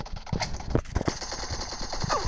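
Rapid bursts of automatic gunfire in the PUBG video game, loud and dense, with overlapping shots and clatter across the whole moment and no clear talk.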